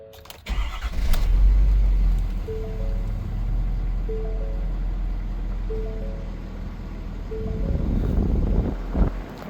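A 2019 Ford F-550 crane truck's 6.7L diesel engine cranks and catches, then settles into a steady low idle, with a few soft repeating chimes over the rumble.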